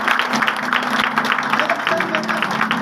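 Applause from an audience at a Hindi-language direct selling business seminar: dense, steady clapping that fills the whole stretch, with a speaking voice faintly running beneath it.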